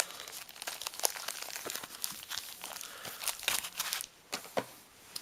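Foil Yu-Gi-Oh Legacy of Darkness booster packs shuffled by hand, producing close, continuous crinkling and crackling with sharp bursts that thin out near the end.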